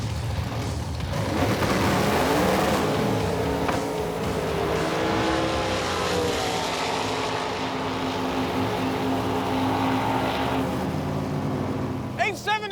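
Two eight-second Roadkill drag race cars roar off the starting line together, a loud, sustained engine blast that holds steady and close with talk mixed in, ending in a brief squeal.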